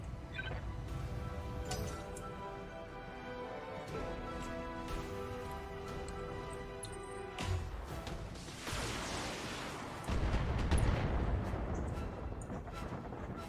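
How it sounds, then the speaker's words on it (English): Mech weapons discharge in the BattleTech video game as a run of heavy booming shots and crackling impacts, layered over a droning musical score, with louder bursts later in the sequence. "Discharging weapons."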